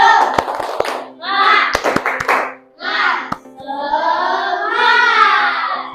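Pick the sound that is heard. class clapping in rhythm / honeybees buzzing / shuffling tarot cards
class clapping in rhythm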